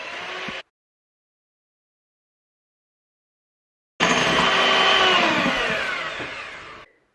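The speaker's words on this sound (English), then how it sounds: "I'm going to place that into a bowl and whisk with an electric mixer" Electric mixer whisking room-temperature egg whites in a bowl, a short burst of whirring, then silence, then a longer loud, steady whir that slowly fades before stopping.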